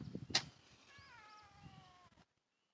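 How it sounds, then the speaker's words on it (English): A mother cat lets out one long, drawn-out meow, close and clear, just after a sharp knock. It fades into silence. "Oh, mama cat, quiet."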